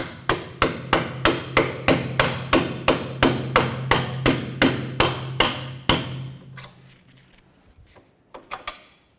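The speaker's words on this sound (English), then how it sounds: "Try using a punch to drive this through." Rapid steady hammer blows on a metal punch driving a bolt through during rear coil spring replacement on a 2004-12 Chevy Malibu, about twenty sharp ringing strikes close up, then quieter clanks and rattles.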